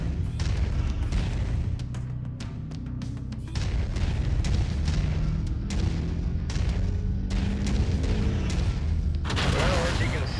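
Long-range missiles firing in the video game Mechwarrior 5 Mercenaries, a dense volley of booming launches and blasts, loud and continuous, with someone talking over them.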